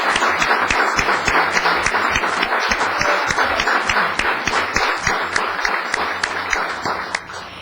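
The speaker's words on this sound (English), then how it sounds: "we would like to give them applause" A town council meeting audience breaks into sustained applause, dense rapid clapping filling the room at a steady level for several seconds before tapering off at the end.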